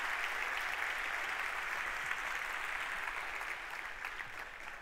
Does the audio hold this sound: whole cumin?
no